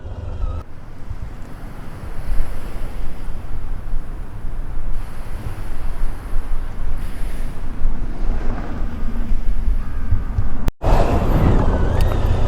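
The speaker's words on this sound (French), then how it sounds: "Bon là je crois qu'on aura compris dans quel sens le vent souffle" Strong wind roars steadily across the microphone on the Oléron coast road during a motorbike trip, a loud continuous buffeting rush with deep low rumble and no break except a brief dip near the end.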